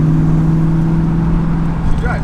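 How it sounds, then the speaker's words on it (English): A lowered car's engine drones steadily up close, loud and constant, with a low hum throughout and faint voices near the end. "It's really weird watching your car roll."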